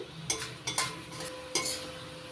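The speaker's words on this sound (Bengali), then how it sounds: "এবার মিডিয়াম আছে নাড়াচাড়া করে পাক দিয়ে নিচ্ছি" Ripe mango and flour mixture for puli pitha stirred in a pan over medium heat, with three or four short scraping strokes under a low sizzle.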